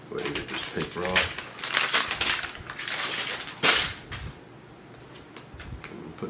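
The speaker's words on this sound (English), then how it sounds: "Go ahead and get this paper off." Paper wrapping rustled and peeled off an AirPods Max carrying case in a series of close crinkles and tearing scrapes, with a person talking over it.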